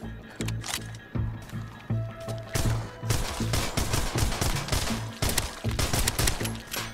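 Rapid gunfire in the VR zombie shooter Arizona Sunshine, a dense run of sharp, close shots in quick bursts with short pauses between volleys, loud and dominant with little else audible.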